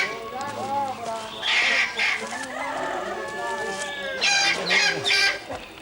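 Cocks in a Bali training fight cluck, squawk and crow in bursts, some close and loud, with flurries of sharp calls over a quieter stretch in between.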